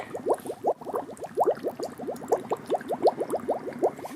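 Liquid bubbles and gurgles in quick, irregular pops inside an abandoned waste incinerator, a close, busy burbling that continues throughout without any talking.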